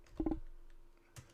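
A short burst of keys tapped on a computer keyboard, a few quick close clicks followed by a pause and one more faint keystroke.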